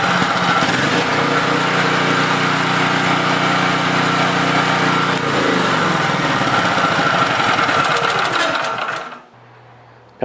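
Petrol generator engine running after a restart, a loud steady buzzing drone with rapid mechanical chatter that runs unbroken for about nine seconds, then cuts off abruptly, leaving a low residual hum.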